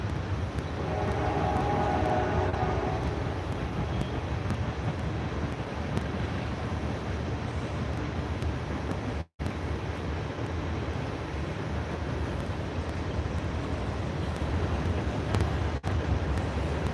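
A train rolls past a fishing spot in a steady, loud, continuous rumble that lasts throughout, mixed with wind buffeting the microphone and a brief dropout midway.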